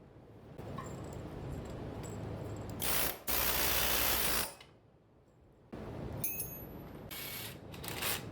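Ratchet tools work on the front suspension of a 1963 Chevrolet Impala SS convertible during disassembly, producing bursts of close mechanical clicking and spray-like noise that come and go, with a loud stretch in the middle and quieter gaps between them.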